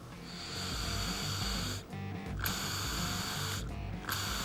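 Air is blown by mouth through a fuel line into a float bowl to test the float valve: a loud, close, steady rushing hiss with a gurgling, ratchet-like rattle, briefly broken twice by short pauses.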